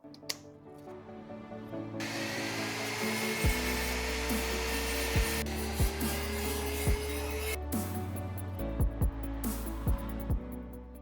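Cutting out the center wall of a Mazdaspeed 3 intake manifold with a power tool, a harsh buzzing grind in long bursts broken by short pauses and sharp clicks as the tool stops and restarts.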